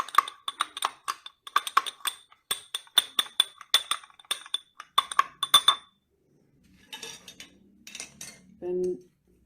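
A metal teaspoon clinks and scrapes against a glass while stirring crushed apple in ethanol, rapid rhythmic taps for about six seconds, then quieter rustling and a short low hum.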